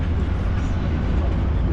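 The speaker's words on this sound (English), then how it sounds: "Tram looks really old school as well." An old tram rolls past on a street in Sofia, Bulgaria, giving a steady, close, loud rumble that fills the whole moment.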